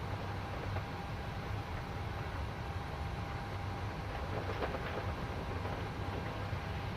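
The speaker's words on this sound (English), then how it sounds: "Starting engine 2." Boeing 737 engine 2 spinning up during start in a flight simulator game, a steady broadband rushing whine with low rumble that holds evenly throughout, continuous and moderately loud.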